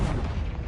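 A Confringo blasting spell explodes in Hogwarts Legacy, a brief, thick low boom that rumbles steadily for under a second.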